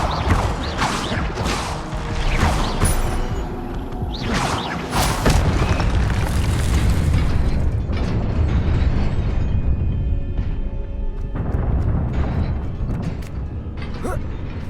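Booming fire-spell blasts in Hogwarts Legacy, a series of loud bursts and crashes with mechanical creaks and clanks layered over a dense, rumbling game soundscape, with no talking.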